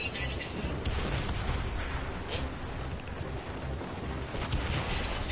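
Ship cannon fire in the game Assassin's Creed Rogue, heavy booms and rolling rumble during a naval battle, dense and continuous, with shouting voices underneath.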